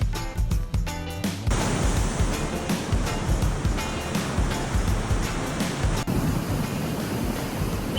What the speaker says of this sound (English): you probably can't hear me over the waves here